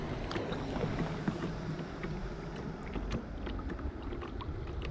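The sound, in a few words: paddling a boat on water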